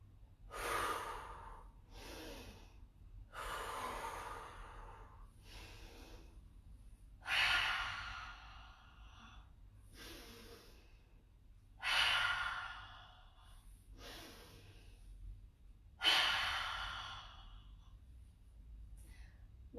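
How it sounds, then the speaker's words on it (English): A person breathing slowly and deeply during a yoga workout, with long airy inhales and forceful sighing exhales repeating every few seconds, close and clear, alone without talk. "Breathing in, breathing out."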